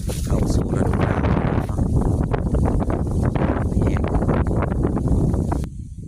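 Dry early-winter wind blowing steadily across harvested rice fields in rural Laos, a loud continuous buffeting rush with rustling gusts throughout, easing near the end.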